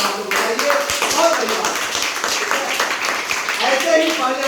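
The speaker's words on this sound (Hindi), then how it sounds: "आप लोगों ने आकर के ये अपने आप पर तालियां जोरदार आप लोग बजाइए" Audience at an outdoor yoga camp in the rain clapping steadily for several seconds, with scattered taps and some talk mixed in beneath the applause.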